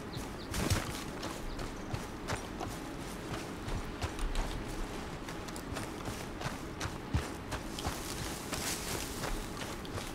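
Horse hooves clip-clop steadily across ground in the video game Red Dead Redemption 2, a continuous uneven patter of footfalls against a dense noisy outdoor backdrop, fairly faint in the mix.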